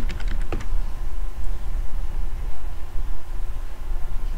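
A computer keyboard being typed on in a short quick burst of clicks at the start, then a steady background hum with no voices.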